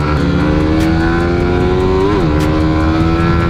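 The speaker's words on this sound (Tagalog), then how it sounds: "Pero ang tining pa rin ng makina, grabe." A Suzuki Raider R150 Pro motorcycle engine runs loud and close, holding a steady buzzing tone, then briefly blipping the throttle with a quick rise and drop in pitch before settling back to a smooth idle.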